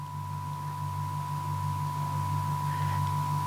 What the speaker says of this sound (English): What you're hearing right now is a frequency set designed to both induce calm but also focus